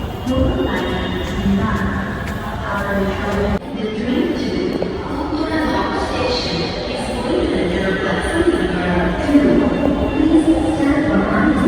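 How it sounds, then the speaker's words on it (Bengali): A metro rail train pulls into Bijoy Sarani station in Dhaka, bound for Motijheel, under a steady loud rumble and crowd noise from a busy platform, with voices talking throughout. "যে ট্রেনটা চলে এসে পড়েছে"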